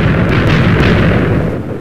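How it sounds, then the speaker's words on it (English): A TNT block explodes in Minecraft with a loud, dense blast that rumbles on without a break, like a sustained roar of detonations. "Well, I'm gonna blow up this TNT you have here right now."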